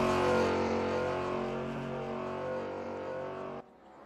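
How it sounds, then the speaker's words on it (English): A BMW race car in the Raceroom racing game, DTM 1992 class at the Nordschleife, drones along a straight with a steady, harmonic engine tone that holds loud and then cuts off abruptly near the end. "You could just about hear the BMW going along the straight."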